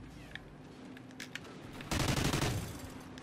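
A minigun in the shooter game Call of Duty Ghosts spins up and fires a loud, dense continuous burst after a quieter stretch with a few faint clicks.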